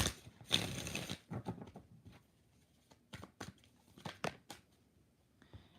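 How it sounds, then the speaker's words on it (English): Tarot cards are shuffled by hand in quiet bursts of riffling and slapping, close and soft, with short pauses between the quick papery flurries. "One more shuffle."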